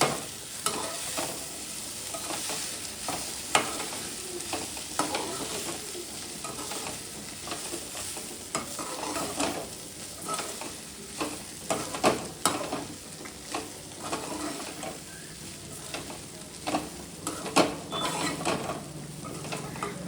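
Lemon rice being stirred and mixed in a pan, a steady scraping of the spoon against metal with a soft sizzle underneath, continuing without pause.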